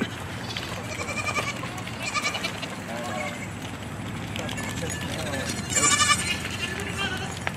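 Goats in a farm herd bleat several times, close and loud, with harmonic, wavering cries over shuffling and hoof noise, the loudest near the end.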